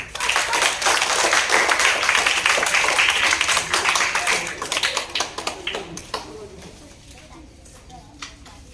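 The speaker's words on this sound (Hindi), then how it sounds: "वेरी फाइन, ताली लगा दो।" Classroom students clapping together in a maths lesson, a burst of rapid overlapping claps that thins out into scattered taps near the end.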